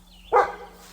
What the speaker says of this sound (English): They are barking at something up a tree.